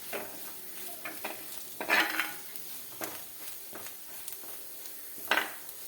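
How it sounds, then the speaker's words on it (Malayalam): Spice powders sautéing in a pan for a raw mango curry, a soft sizzle under repeated scraping strokes of a spoon against the pan, with a few louder stirs standing out, close up and without speech. "ഈ പൊടികളുടെ പച്ചമണം ഒക്കെ ഒന്ന് മാറുന്നത് വരെ നമുക്ക് ഇതിനകത്ത് തന്നെ ഇട്ടൊന്ന് വഴറ്റിയെടുക്കും"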